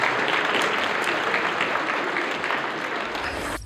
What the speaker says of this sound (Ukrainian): Вітаємо